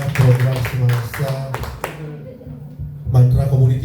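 Applause from an audience at an Indonesian education program dissemination session, a short burst of clapping mixed with a voice speaking, dropping off briefly before picking up again.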